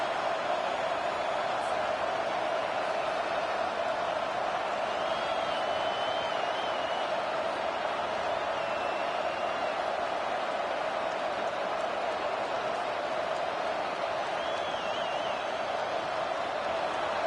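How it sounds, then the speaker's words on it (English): A steady, dense roar of a large stadium crowd at a college football game fills the air continuously, loud and distant-sounding, with no clear individual voices. "This crowd bringing the energy and noise early."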